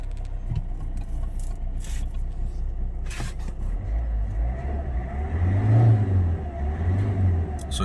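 A 2015 Hyundai Elite i20 Magna diesel car starts up, with a few clicks and knocks before the engine catches and revs twice in low, rising surges, close and fairly loud.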